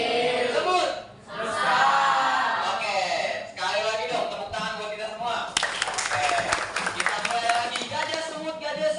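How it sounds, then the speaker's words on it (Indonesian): A group audience claps after a hand game at an Indonesian gathering. Voices and calls run through the first half, then brisk, crowded clapping swells over the last few seconds. "sekali lagi dong tepuk tangan buat kita semua"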